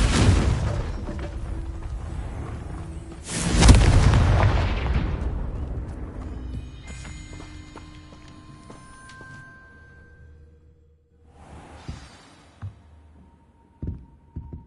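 A Confringo fire spell from Hogwarts Legacy bursts into one loud booming explosion, then a long rumbling decay, followed later by fainter crackles and small pops.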